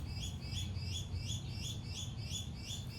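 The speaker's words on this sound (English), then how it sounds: "Boy, the birds are sure singing today." Outdoors on a patio, many birds sing in a steady chorus of overlapping chirps and high trills that runs without a pause the whole time, with no one speaking.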